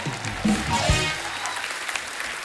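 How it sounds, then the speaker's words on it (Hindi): A studio audience at a comedy talk show claps, a broad wash of applause that holds steady, with a brief low vocal sound near the start. "जोरदार तालियां हो जाएं हमारे चारों धुरंधरों के लिए।"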